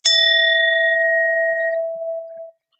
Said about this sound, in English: So this time we're not using a small bell, but we're using a big bell.